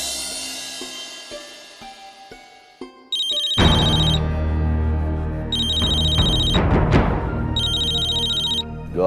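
A telephone rings in repeated electronic bursts in a TV drama scene, loud and close, over a dramatic musical sting and sustained background music.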